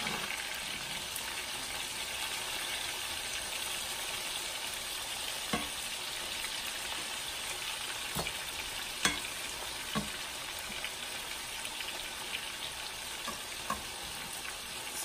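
Onions fry in a pan alongside liver with the burner turned off, a quiet steady sizzle with occasional soft clicks and utensil taps scattered through.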